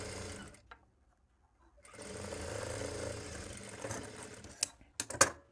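A sewing machine stitches a finely folded picot hem in short bursts: a brief run, a pause of near silence, then a longer steady whirring run ending in a few sharp clicks, fairly faint and close.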